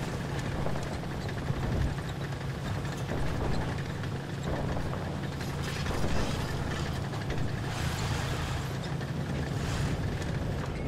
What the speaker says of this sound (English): I do hear a tank.